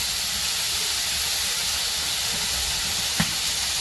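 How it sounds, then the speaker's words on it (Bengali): Onion, green chili, potato and eggplant fry in oil with a steady, dense sizzling hiss that continues unbroken throughout, with one brief clink near the end. "ভাজতেছে তেলে পেঁয়াজ কাঁচামরিচ দিয়া সবজি আলু আর বেগুন ভাজতেছে"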